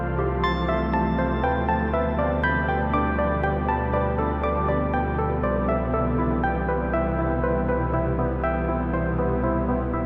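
An arpeggiated synth chord progression from a Solim patch in VCV Rack plays alone, its bright, plucky tones rippling steadily while the underlying chords shift twice.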